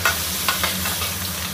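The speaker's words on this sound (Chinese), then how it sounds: "稍微给它翻炒翻炒，这个炒干炒出油就可以了" Thin slices of cured pork stir-fried in a little oil with ginger, garlic and scallion: a dense, loud sizzle with a few quick scraping tosses in a wok, close up.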